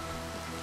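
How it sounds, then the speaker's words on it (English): Steady rain in the Minecraft video game gives a brief, even hiss of falling water with no talking. "The only bad thing is it's raining out here."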